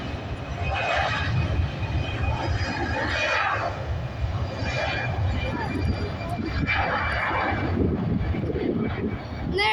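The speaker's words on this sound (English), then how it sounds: "Off goes this plane now, taking off straight away it looks like." An airliner taking off at Edinburgh Airport, a steady distant jet engine roar with broad rushing noise that surges in waves, heard from a spotting point outdoors.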